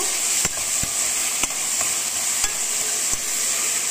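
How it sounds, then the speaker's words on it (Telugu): Onions and green chillies sizzle with curry leaves in a pan, a steady close frying hiss broken by regular sharp taps of a spatula stirring the pan. "ఆనియన్స్ ఇంకా పచ్చిమిర్చి యాడ్ చేశాను బాండీలో"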